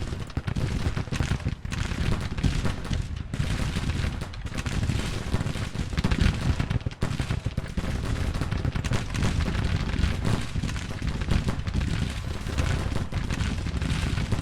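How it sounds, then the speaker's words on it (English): Artillery bombardment in Grand Tactician: The Civil War: loud, continuous cannon booms and crackling gunfire blending into an unbroken battle roar that lasts throughout. "They are bombarding"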